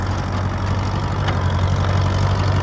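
A crawler tractor runs close by while spinning on its right steering clutch and brake, giving a constant low, throbbing engine drone with no breaks.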